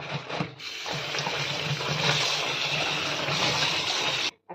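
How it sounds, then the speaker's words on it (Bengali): Fresh young taro leaves rinsed under running water, a steady close splashing gush lasting several seconds before cutting off abruptly, with no talking. "বেশ কতগুলো কচু পাতা তুলে নিয়ে কচু পাতাগুলোকে ভালো করে ধুয়ে নেব।"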